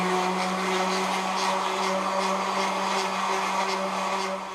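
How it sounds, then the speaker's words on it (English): Power sander with 60 grit paper bevelling a part for a station wagon seat rebuild, a steady loud whining drone running continuously, no talk. "I'm going to take my sander, and with like 60 grit"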